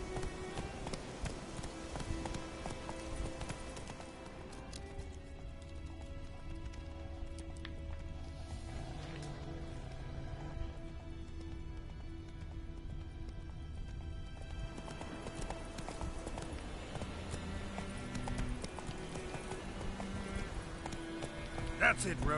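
Hooves of the horse Roach galloping in the Witcher 3 video game, producing a rapid, steady clip-clop rhythm over a music bed, with someone talking intermittently.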